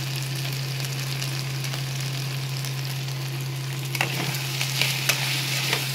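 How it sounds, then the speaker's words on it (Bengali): Spice paste of garlic, ginger, green chilli and tomato fries in a pan with a steady, close sizzle and a low hum beneath, plus a few light scrapes and clicks of stirring near the end. "এটা দিয়ে ভালো করে একটু কষিয়ে দেবো।"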